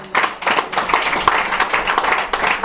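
Church congregation clapping in steady unison rhythm during a worship service, many hands beating together at a brisk regular pace, loud and close, with faint voices underneath.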